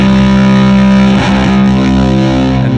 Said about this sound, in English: and then I'm gonna run it through like a bass amp.